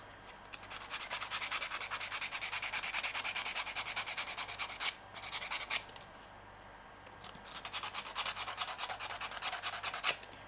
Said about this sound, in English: So you are doing this paper sanding.